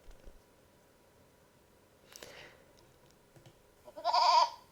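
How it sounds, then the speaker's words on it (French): Sheep bleating from a sound file opened in Audacity, one wavering bleat near the end after a few faint clicks and a brief rustle, otherwise quiet. "J'ouvre le son du mouton."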